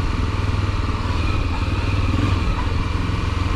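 A Chevrolet D10 diesel pickup truck rumbles past on a neighborhood street, its low diesel engine clattering steadily and loudly throughout.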